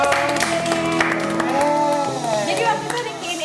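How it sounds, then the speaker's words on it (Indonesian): A studio audience at an Indonesian talk show about youth and tourism gives a short round of clapping and cheering while people talk over it. "Oke, tepuk tangan dong"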